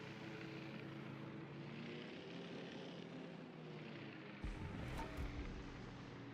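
A propeller airplane drones steadily in a naval battle video game, a continuous engine hum that swells briefly near the end.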